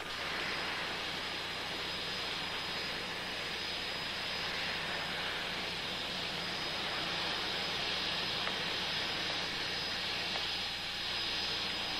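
Airplane departing on flight 892 to London, a loud continuous jet-engine roar and hiss that holds steady throughout.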